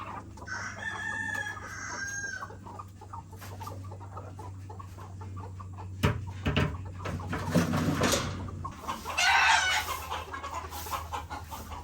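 Chickens cluck and a rooster crows nearby inside a chicken shed over a low steady hum, with a few knocks and rustles in between.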